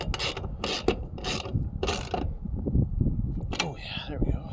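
A camper jack cranked by hand gives loud, close bursts of rasping, ratcheting metal, roughly one every half second, with a voice talking faintly underneath.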